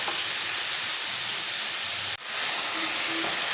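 Raw papaya pieces frying in hot oil as they are stirred, a loud, even hissing sizzle that dips briefly once, then resumes with a faint tonal hum.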